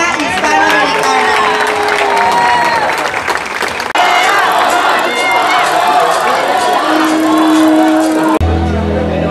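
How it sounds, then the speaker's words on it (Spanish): A large crowd at a beauty pageant applauds and cheers loudly and steadily, with voices and whistles mixed into the dense clapping throughout. "Fuerte y caluroso aplauso para Andrea Basarte"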